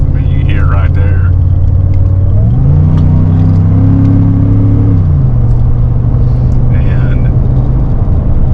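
Ford Coyote V8 with an Edelbrock E-Force supercharger pulling under boost on a straightaway in a truck on tall 10-ply tires, a loud steady engine drone that rises in pitch mid-clip then settles, with a voice talking over it.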